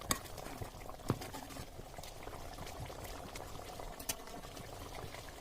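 Hyderabadi-style egg pulusu curry simmers in a pan, a faint, steady bubbling with soft pops and occasional louder blips over a quiet background.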